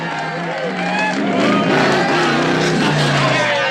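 A crowd cheers and whoops loudly and continuously, a dense wash of many voices close by, with speech mixed in.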